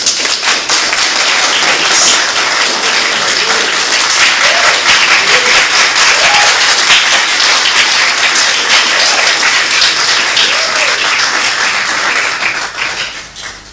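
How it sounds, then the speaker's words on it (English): Loud, dense crowd applause fills a New Force Party rally in Ghana as the incoming First Lady is welcomed, steady sustained clapping that tapers off at the very end. "Let's give a round of applause to the incoming First Lady."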